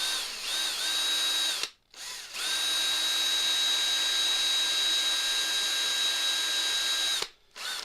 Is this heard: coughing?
no